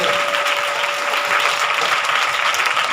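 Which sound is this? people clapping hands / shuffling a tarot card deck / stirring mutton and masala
people clapping hands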